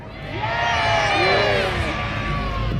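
A large outdoor crowd at a monster truck show cheers and whoops loudly and continuously for a few seconds, with children's shouts mixed into the roar.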